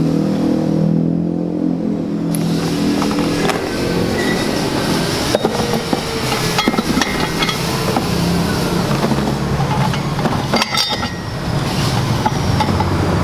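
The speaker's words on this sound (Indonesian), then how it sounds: "Ini hanya sekedar pengenalan ya, dan cara kerja mesin pelet apung." A floating fish feed pellet machine runs with a steady, loud mechanical rumble and grinding roar, unbroken throughout with occasional clicks and clatters.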